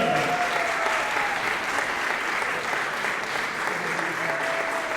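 Sustained applause from an indoor crowd at a basketball semifinal, honoring the line judges, a dense, even clapping wash held throughout with faint voices underneath.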